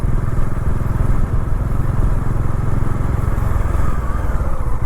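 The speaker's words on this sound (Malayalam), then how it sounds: "പക്ഷെ ഭയങ്കര തിരക്ക് ഇവിടുത്തെ റോഡിലൊക്കെ." A motorcycle engine drones loud and close on a busy road in Goa, a steady, rough, unbroken rumble with no voices.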